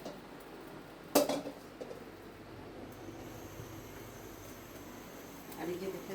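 A metal kadai lands on the stove with a single loud clank as oil is added for cooking jute leaves. A quiet kitchen hum follows, with a soft clatter near the end.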